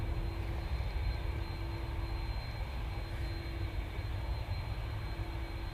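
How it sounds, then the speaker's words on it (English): A very loud aircraft taxis onto runway 23 left, producing a steady, unbroken engine roar with a constant whine running through it for the whole stretch. "But we also have one of the noisiest aircraft in existence, just taxiing up onto 23 left."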